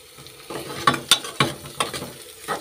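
Capsicum being stirred as it fries in a pan: rhythmic scraping strokes roughly every third of a second ride over a continuous close sizzle, with no one talking.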